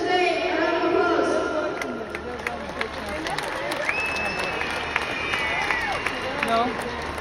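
Audience applause fills a hall after a speech celebrating Galway's All-Ireland championship, dense steady clapping with scattered cheers and crowd murmur, loud and sustained throughout.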